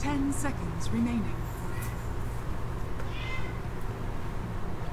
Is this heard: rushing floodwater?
no